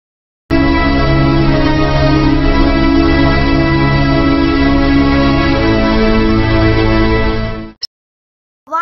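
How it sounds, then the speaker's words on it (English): A violin holds a loud, sustained bowed tone for about seven seconds, then stops abruptly, heard alone and close. "This is a violin sound."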